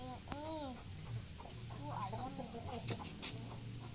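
Chickens cluck and chirp nearby in a busy barnyard, with brief bursts of noise and soft talk in the background.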